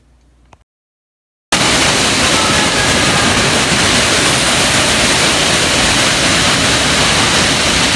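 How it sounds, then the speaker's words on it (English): A big splash water dump at an indoor water park bursts in after a moment of near silence, then becomes a loud, steady roar of pouring water that continues unbroken. "But it seemed like everyone was waiting for the big splash to happen."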